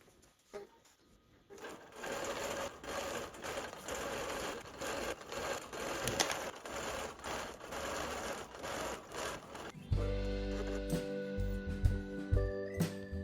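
A longarm quilting machine stitches a row across a quilt, a steady fast mechanical chatter running for most of the span, then a louder tonal hum from about ten seconds as the machine shifts or stops.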